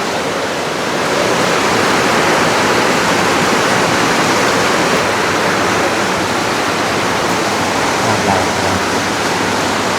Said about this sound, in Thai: น้ำไหลลงท่อ